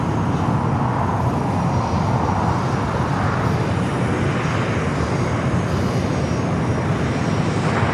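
Heavy jet airliner landing on runway 24 right at LAX, a loud, continuous broadband engine roar that holds steady throughout.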